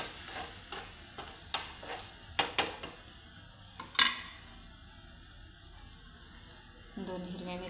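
A garlic mixture tipped into gravy in a kadhai sets off a soft sizzle, with a few sharp clinks of a utensil against the pan early on, and a brief faint voice near the end.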